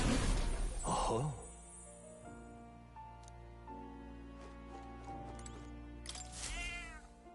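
A cat meows among other sounds, with harmonic voice-like tones and possible background talk, in a scene that moves from a loud opening into quieter layered sounds.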